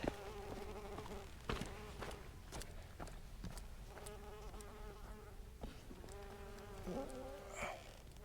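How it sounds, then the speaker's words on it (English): Bumblebees buzzing around a shrub beside a hiking trail to Snow Lake, a close, continuous droning hum with several overlapping wingbeat tones rising and falling as the insects move about. "I'm just videoing the bumblebees."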